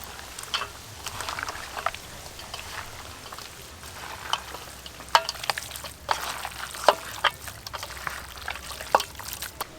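Mutton pieces fry in a pan with a low, steady sizzle, broken by scattered crackles and pops and light stirring clatter, close and moderately loud with no talking.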